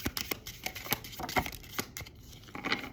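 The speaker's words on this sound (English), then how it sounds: "I'm going to shuffle one more time just in case." Rapid papery riffling and flicking of tarot cards being shuffled, close up, with soft crinkly bursts repeating irregularly.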